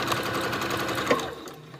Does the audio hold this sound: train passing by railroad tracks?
no